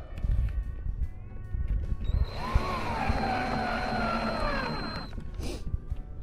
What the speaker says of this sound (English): get one of these little screws out and screw it into place